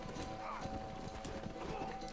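A horse in the video game Red Dead Redemption, hooves clip-clopping in a quick rhythm with faint whinnying, fairly quiet with a voice talking over it.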